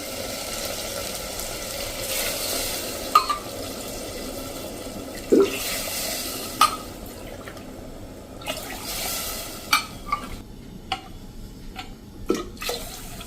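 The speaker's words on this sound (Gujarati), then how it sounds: "1 કપ મગ લીધા છે તો 5 કપ પાણી નાખશું" Water pours into a pot of mung beans in steady rushes, with a few clinks and knocks of a cup between pours; no one speaks.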